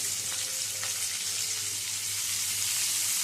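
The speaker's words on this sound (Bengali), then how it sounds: "এবারে এই তেলের মধ্যে দিয়ে দেব পেঁয়াজ" Chopped onion fries in hot oil for spice khichdi, giving a loud, steady, close hiss of sizzling with no pauses or voices.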